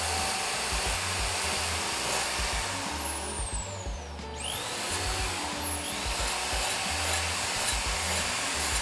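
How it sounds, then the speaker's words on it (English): An angle grinder works the welded steel underside of a BMW E28 body under restoration, a loud continuous close whine that dips and swoops in pitch midway as the load changes. "Now we gotta grind this part"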